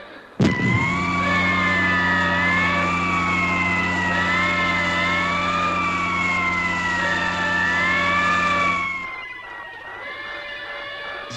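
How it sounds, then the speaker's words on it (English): Wailing sirens rise and fall loudly in overlapping tones over a low droning hum, cutting off abruptly near the end. "turn those alarm sirens off"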